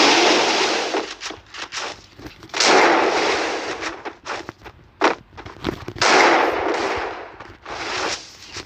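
Gunfire in the Free Fire mobile game comes in loud, bright bursts of rapid shots, separated by short gaps and scattered single cracks, with no talking over it.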